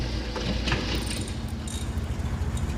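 A race car engine runs after an exhaust valve adjustment on the number 4 cylinder, a steady low rumble that holds at a constant level without revving.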